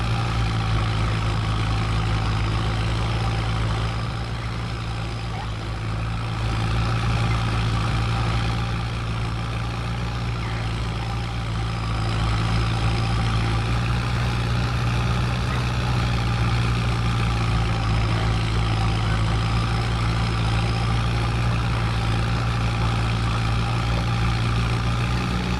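A tractor engine runs steadily during baling on a farm, a continuous low droning rumble with little change in pitch, heard alone throughout.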